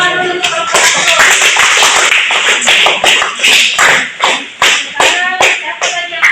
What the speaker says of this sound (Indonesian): tepuk tangan dulu untuk kelompok satu